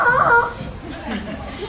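An African grey parrot at a zoo bird show imitates a rooster's crow, one short rising call up front, near and fairly loud, trailing into softer mixed voices.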